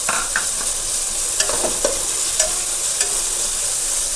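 Capsicum is stir-fried in a pan for garlic egg fried rice. A steady close sizzle runs throughout, broken by several quick scraping stirs of the spatula.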